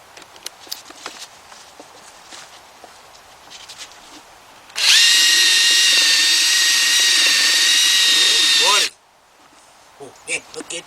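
A cordless driver used on an alternator replacement job on a Solara, Camry or Highlander whirs loudly and steadily for about four seconds, preceded and followed by quieter handling clatter.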